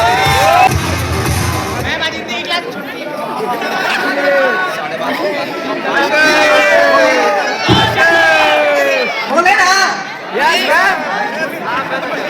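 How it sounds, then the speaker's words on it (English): A school crowd at a farewell cheers for a teacher, children shouting and whooping over a dense hubbub of chatter that stays loud and close throughout, with clapping hard to pick out beneath the voices. "give a big round of applause for Pushpa ma'am"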